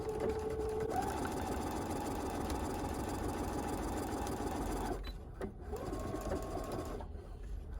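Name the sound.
sewing machine stitching fabric face mask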